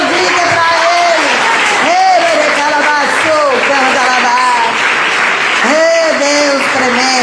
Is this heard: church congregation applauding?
yes